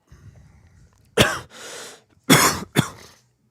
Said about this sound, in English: You've just coughed all over me